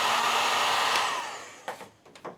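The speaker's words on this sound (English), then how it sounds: "I'm going to plug in the heat gun. We're going to hit those shrinked tubes with some heat." Electric heat gun blowing hot air onto shrink tubing during a 12V RV furnace motor repair, a steady breathy fan roar that fades out, followed by a few faint handling clicks.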